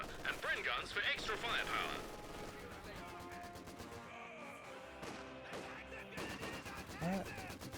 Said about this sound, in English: Vickers engaging the Grenadiers